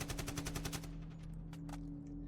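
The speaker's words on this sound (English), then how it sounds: "More gunfire." A rapid burst of automatic gunfire rattles for about a second, followed by a few scattered single shots over a low steady hum.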